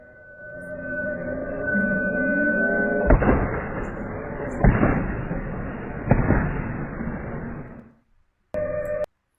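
A sharp gunshot-like bang from a negligent weapon discharge rings out among several loud impulsive bursts over a steady siren-like tone, followed by a brief pause and a short final tone.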